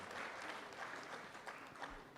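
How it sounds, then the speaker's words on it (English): An audience at a national seminar on banking for judges gives a short burst of applause, a faint, even wash of clapping that fills the whole moment without speech. "another round of applause for our brother"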